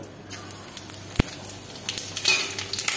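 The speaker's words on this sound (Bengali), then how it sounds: "কড়াতে তেল দিয়ে দিয়েছি। এখন 5 ফোড়ন দিয়ে দেব।" Panch phoron spices crackle and sizzle in hot oil in a kadai, a low continuous fry with one sharp pop and a swelling burst of spitting near the end. No one speaks.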